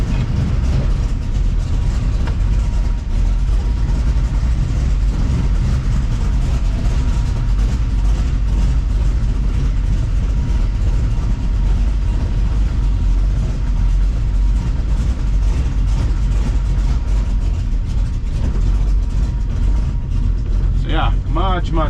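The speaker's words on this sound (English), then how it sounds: "That's a cold 600 and change horsepower engine running that good." A 1934 Ford Coupe's cold 600-plus horsepower engine idles after its first start, a loud, steady low rumble with a constant droning tone that runs throughout, with a brief higher rattle near the end.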